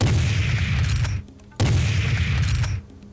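Two heavy sniper rifle shots in Serious Sam HD, each a loud booming blast that rings out for about a second before a brief lull, close and alone.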